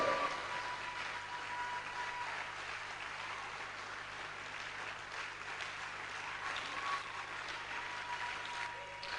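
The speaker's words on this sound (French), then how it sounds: "Can you clap your hand for God?" A church congregation claps for God, a steady dense patter of many hands filling the space at moderate level with a faint low hum beneath, no speech over it.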